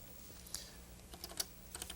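Faint keystrokes on a 1984 computer keyboard in a classroom setting, a few scattered taps and short clusters over a steady low hum, with no talk.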